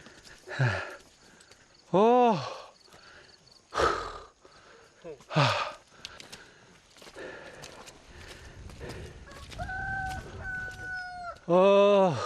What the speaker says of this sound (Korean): 닭이 또 반겨주네